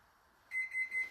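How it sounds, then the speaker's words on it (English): A kitchen timer beeps three times in quick, even succession, clear and close after a moment of near silence, each tone short and bright with no talking. "When the timer beeps, we're going to turn the timer off"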